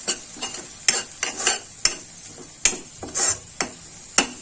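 A spoon repeatedly scrapes and knocks against a pan as coriander-cumin powder is mixed into a sprouted moth bean curry, sharp irregular clinks over a soft background sizzle.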